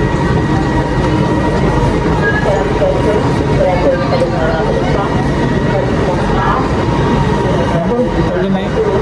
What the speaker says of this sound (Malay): Sekejap lagi sampai LRT-nya